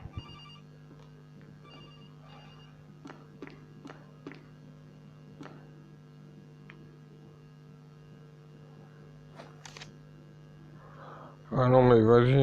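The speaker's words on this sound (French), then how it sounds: "On a bien entendu un téléphone." A telephone rings faintly in a room over a steady mains hum, with scattered soft taps and ticks, before a loud voice breaks in at the very end.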